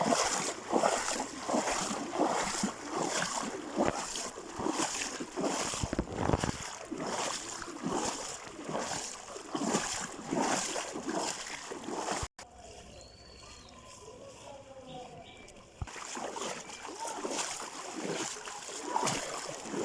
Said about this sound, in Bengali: রাস্তার মধ্যে হাঁটতেছি পানি আর পানি